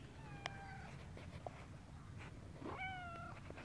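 A cat meows twice at close range, each call a drawn-out tonal cry with a short gap between them, over a quiet room background with no talking.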